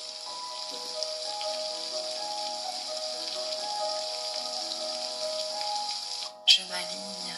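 Steady soft rain patters continuously under sustained calm tonal music, the hiss even throughout until a brief sharp break near the end.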